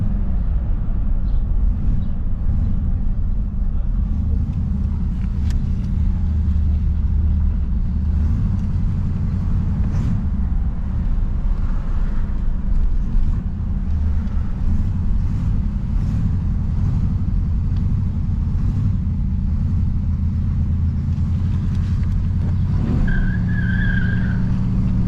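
A 1968 Oldsmobile Delmont 88 with a 455 big-block V8 on its first drive in over ten years, with brakes working on only one wheel: a steady, loud low engine rumble throughout, ending in a brief high squeal.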